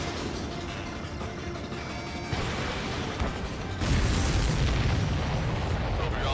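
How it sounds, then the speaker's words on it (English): A missile strikes a supply ship in a video game, setting off a loud, sustained explosion roar that swells into a heavier rumbling blast partway through, with dense booming noise throughout. "The missile hit the supply ship dead on."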